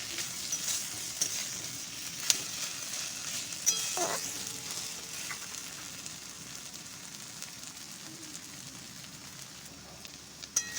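Curry frying in oil in a pan gives a faint, steady sizzle and crackle, dotted with a few sharper pops and stirring clicks, heard close with no talk.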